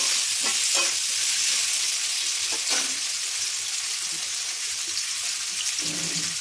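Chopped small onions hiss and sizzle steadily in hot oil in a pan, a loud continuous frying crackle with a few faint clinks and scrapes.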